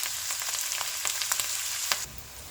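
Onions frying in a karahi until golden brown for kohati keema, a steady close sizzle with scattered sharp crackles and pops, alone without voices.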